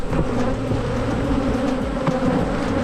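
Agitated honeybees buzz around a beehive, a dense loud droning hum with individual bees whizzing close past, continuous and unbroken, with no talking.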